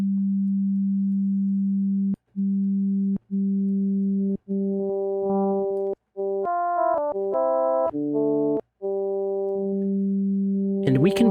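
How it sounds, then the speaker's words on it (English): A pure, steady sine tone from the Dexed FM synth is played as a run of separate notes that gain brighter modulator harmonics as they go on, ending in a buzzy, metallic timbre. There is no talking. "So the moment that I start increasing the level, we should start hearing how the sine wave turns into something else."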